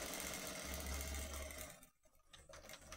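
A sewing machine runs in a steady rapid whir while stitching a skirt, then slows with a short reverse backstitch and stops near the end, leaving quieter mechanical clicks.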